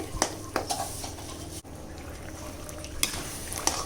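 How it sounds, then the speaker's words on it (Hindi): Date paste roasting in a little leftover ghee in a pan gives a soft, faint sizzle broken by a few clinks and scrapes of a spoon against the pan. "अब इसी बचे हुए थोड़े से घी में हम इसको भून लेते हैं।"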